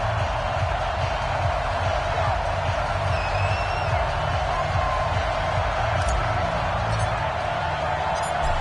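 A stadium crowd in the Madden NFL football game cheers steadily before an Eagles–Saints matchup, a dense, constant roar of the crowd holding at a steady level the whole time.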